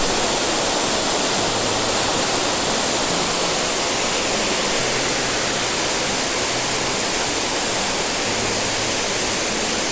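A rain-swollen waterfall at Falling Waters State Park in Florida pours down into a cavern, a loud, dense, unbroken roar of falling water filling the whole stretch with no voices.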